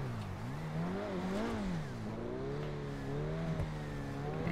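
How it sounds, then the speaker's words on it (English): A C8 Corvette in GTA revs its engine steadily, the pitch rising and falling in smooth waves as the throttle opens and eases, loud and close with no talking. "this car sounds amazing and also looks amazing."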